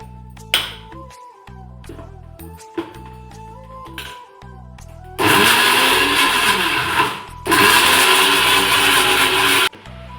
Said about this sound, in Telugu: ఇప్పుడు దీన్ని గ్రైండ్ చేసుకోవాలి